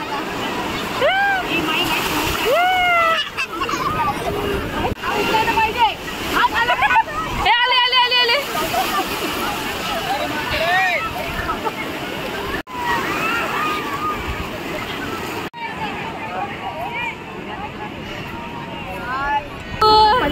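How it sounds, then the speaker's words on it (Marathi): Sea waves splash and slosh continuously nearby at Juhu Beach, Mumbai, while several people, including excited children's voices, talk and call out over the water for the whole stretch. "आला आला पाणी आला"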